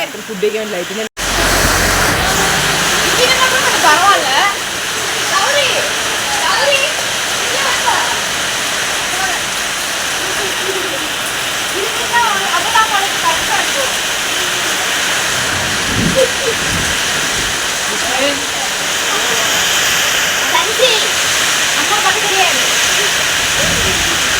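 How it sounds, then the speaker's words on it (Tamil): Heavy rain pours down steadily in a dense, continuous hiss that fills the whole stretch, with a few voices talking faintly beneath the downpour. "சரியான மழைங்க மழைக்குள்ள வந்து நல்லா மாட்டிக்கிட்டோம்"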